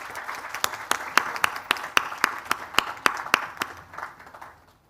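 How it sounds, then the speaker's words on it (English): A round of applause at a health and gender-equality forum, a smallish audience clapping in a steady rhythmic pattern of distinct sharp claps that dies away near the end. "May we please give her a round of applause as she leaves."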